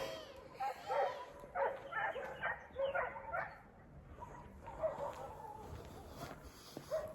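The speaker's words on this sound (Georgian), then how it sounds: "მე თუ ხედავთ უკან ძაღლები არიან და დაახოც ეს ერთმანეთი." Several dogs bark, yip and whimper in rapid overlapping bursts as they fight some distance away, the scuffle faint and sporadic against a quiet background.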